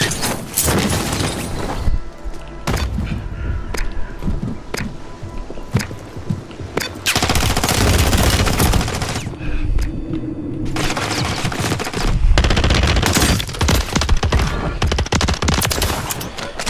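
Sustained automatic gunfire in Call of Duty Warzone Resurgence, with dense bursts of rifle and SMG fire, loud and continuous with brief gaps and booming impacts throughout.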